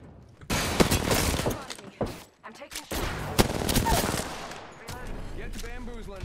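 Rapid bursts of gunfire from an Apex Legends match, loud and close with clusters of shots and a few sharp cracks, followed by quieter clattering and ringing effects near the end.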